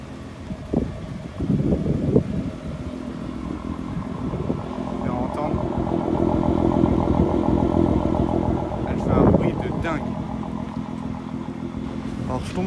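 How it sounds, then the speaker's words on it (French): A Nissan GT-R Liberty Walk fitted with a large rear wing idles with a steady, close mechanical rumble, and people talk over it throughout. "Et voilà la Nissan GT-R Liberty Walk V6, incroyable, beau aileron de chez Concept Store Automobile. Elle ronronne vraiment"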